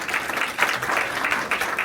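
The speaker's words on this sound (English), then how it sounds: "a huge round of applause" Audience applause at a corporate event in a Baltimore hotel ballroom, a steady dense wash of many hands clapping that swells and dips slightly throughout, fairly close and with no voices on top.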